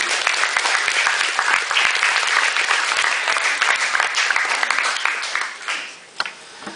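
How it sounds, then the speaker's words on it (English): A school audience breaks into loud, close applause with crisp individual claps audible through the dense wash, fading after about six seconds with a couple of final claps. "Let's give me a round of applause."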